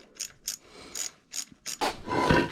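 A hand ratchet snugs bolts on a Honda CRF250R dirt bike, with five short bursts of rapid clicking followed by a longer, denser ratcheting run, all close and clear.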